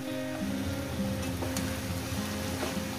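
Small river fish chorchori cooking in a covered pan, a steady soft sizzle and bubbling simmer throughout, faint and even with no talking.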